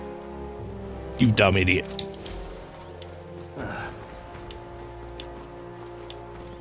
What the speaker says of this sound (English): Uh-oh, rain.